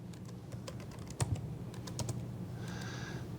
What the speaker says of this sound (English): Sorry about my typing here,